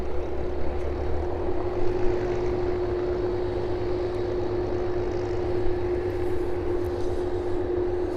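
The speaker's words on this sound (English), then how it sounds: "The 747 just slowing down then." A Boeing 747 cargo jet slows on an airport runway, giving a steady, distant engine roar with a constant low hum that holds evenly throughout.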